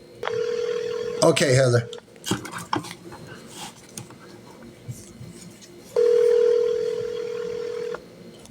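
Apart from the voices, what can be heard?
telephone dialing and dial tone of an outgoing call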